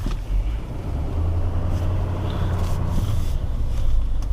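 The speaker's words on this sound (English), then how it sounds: "love the way that this Duramax sounds too" A 2021 Chevrolet Silverado 3500HD LTZ pickup with its Duramax diesel running, a steady low rumble with a deep droning hum and light rattles, heard close and continuous.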